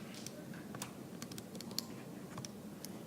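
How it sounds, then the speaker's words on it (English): Keys pressed on a calculator, a handful of soft, light clicks tapped in an uneven rhythm, faint and close against a quiet background hiss. "And you can type that into your calculator."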